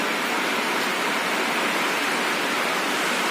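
Steady broadband hiss of rain falling around a farm room where a tractor has been brought in from ploughing, continuous and even with no breaks and no voices.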